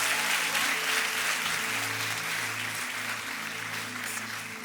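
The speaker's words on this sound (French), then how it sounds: "Est-ce qu'on peut l'applaudir encore?" A church congregation gives steady applause that fills the room and slowly fades a little, with faint murmuring voices beneath the clapping.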